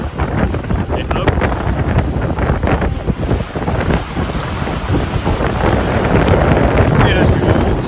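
Strong wind buffets the microphone aboard a sailboat on an ocean passage toward Indonesia, a steady loud roar with gusty broadband rumble throughout, swelling further near the end.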